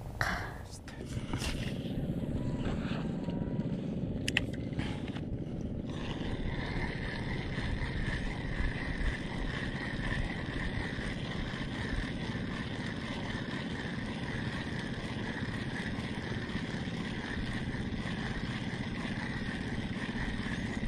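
A passing motorboat engine on a river hums steadily and fairly loud after a brief noisy start, droning on throughout with wind buffeting the microphone.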